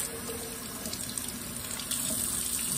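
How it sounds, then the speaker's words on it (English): Tap water pours steadily into a container for a hen setup, a continuous hiss of running water that grows slightly louder near the end, close and alone. "Doesn't matter what temperature of water, you're just gonna fill it to that line."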